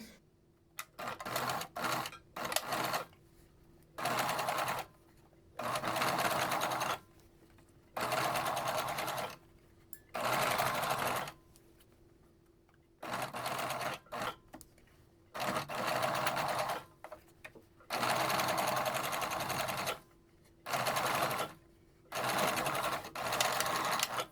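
A sewing machine stitches down the ironed edges of a cloth face mask, running in repeated bursts of steady whirring separated by short pauses, close and clear with no talking.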